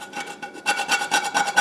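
A utensil scrapes caramelized peanut butter fudge off a pan in a kitchen, a close series of short rhythmic rasping strokes that grow louder partway through.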